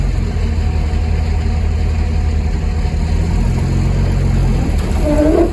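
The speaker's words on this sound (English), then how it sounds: "now we're going to unload it by just driving away." Vehicle engine pulling a loaded trailer of yard debris away to unload it, a steady low rumble that stays loud and close throughout and swells slightly near the end, with no talk.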